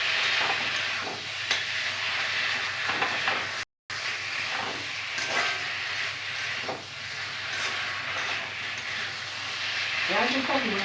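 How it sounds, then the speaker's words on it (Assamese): Tomatoes, potatoes and eggplant fry in oil with a steady, even sizzle and occasional stirring scrapes, a brief dropout in the middle, and a soft voice heard near the end. "বিলাহী, আলু আৰু ৰঙালাও এইদৰে ভাজি ল'লোঁ।"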